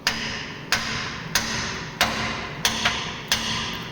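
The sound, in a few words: hammer striking a Jeep Wrangler frame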